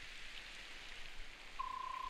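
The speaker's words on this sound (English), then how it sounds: "This part, it's raining." Steady rain falls in Fire Emblem: Path of Radiance, a soft even hiss with faint patter that runs through the clip. Near the end a thin, steady tone joins it.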